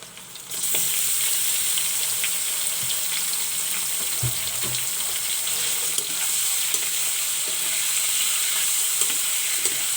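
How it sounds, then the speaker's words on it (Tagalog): Pork pieces frying in a hot pan for a Filipino pancit gisado, a steady loud sizzle from start to end with occasional stirring clatter, no talking. "ilagay na natin yung pork natin guys."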